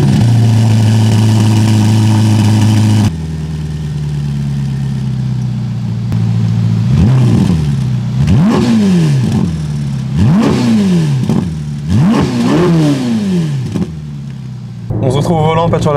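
Ferrari Roma twin-turbo V8 with the silencers removed, first idling steadily, then revved in a series of sharp rising blips while the car stands still, loud and close.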